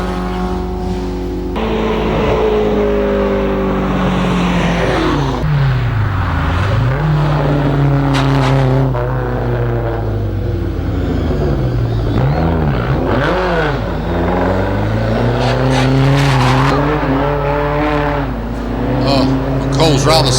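Ford Escort engine revving hard up a hillclimb course, rising and falling through gear changes and sliding through a hairpin, loud and close, with commentary spoken over it throughout.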